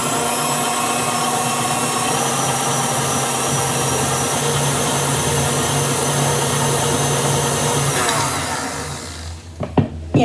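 A stand mixer fitted with a dough hook churns walnut ball cookie dough, giving a loud, steady motor whir that runs unbroken for several seconds, then winds down, leaving a few clanks and knocks.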